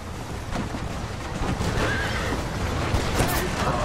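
A horse neighs in the Western action game Red Dead Redemption, its whinny rising over a dense rumble of hooves and motion at fairly loud, steady level.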